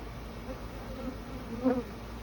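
Honey bees hum in a continuous close drone at the entrance of a Layens hive, with one louder buzz passing near the end.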